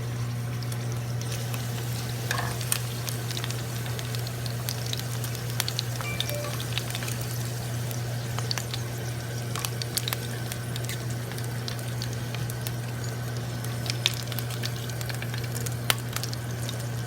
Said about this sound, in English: I've just been constantly turning the chicken, letting it cook and then turn, just so it gets a nice brown coating to it